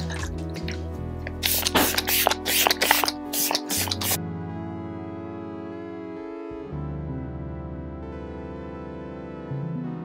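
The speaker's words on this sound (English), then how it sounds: "I'm just going to use this Morphe Luminous setting spray" Several quick bursts of Morphe Luminous makeup setting spray hiss in a rapid series, then stop, leaving soft background music playing alone.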